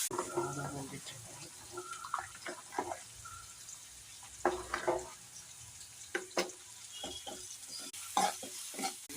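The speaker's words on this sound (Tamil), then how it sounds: "வந்து கொண்டக்கடலை வறுவலுக்கு உரலில் எண்ணெய் வச்சு கடுகு உளுந்து போட்டிருக்கேன்." Mustard seeds and urad dal frying in oil for a chickpea fry, a quiet sizzle broken by sharp crackles and stirring clatter, under intermittent speech.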